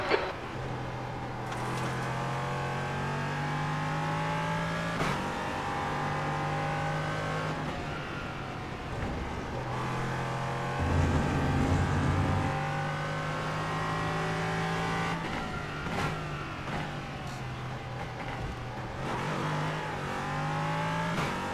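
A race car in a racing game at the Hungaroring, its engine droning and revving continuously through repeated throttle lifts and upshifts, with the worn rear tyres scrubbing through corners; loud and close, with no talking.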